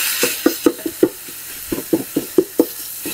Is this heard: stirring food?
yes